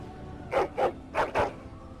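A dog in Dragon Age: Origins barks four times in two quick pairs, each bark short and fairly loud, with no talking over it.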